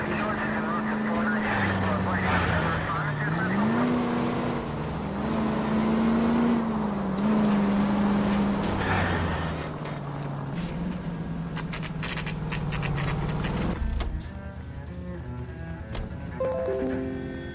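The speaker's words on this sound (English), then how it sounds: "That's the car, Cole. Just pulling out of the drive." A car in the L.A. Noire video game pulls out of a driveway, with a steady engine hum rising and falling as it accelerates away, heard under continuous talk and game music.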